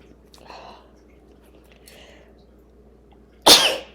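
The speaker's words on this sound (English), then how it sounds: "Just sneeze again." A single loud, sharp sneeze near the end, close up, after a few faint breathy sounds and soft mouth noises in a quiet room.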